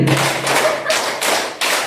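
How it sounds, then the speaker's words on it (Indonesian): A group claps in quick bursts, roughly five short rounds of hand-clapping close by, each separated by a brief gap, with no talking over it. "Tepuk 5 kali"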